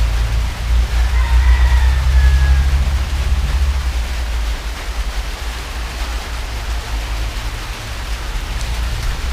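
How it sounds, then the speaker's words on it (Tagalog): Steady rain falls outside a house, a dense, even hiss with low rumbling undertone, loud and continuous throughout with no pauses. "Kasi umuulan, hindi tayo makapag-vlog sa labas."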